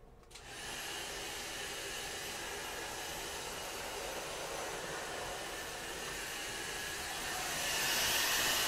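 A loud blow dryer runs steadily and close by, a constant airy roar that holds level throughout and brightens slightly near the end, with no talking over it.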